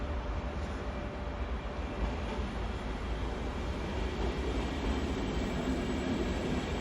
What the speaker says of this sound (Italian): Il treno Italo Alta Velocità 89-10 delle ore 14:42, proveniente da Salerno, è in arrivo al binario 5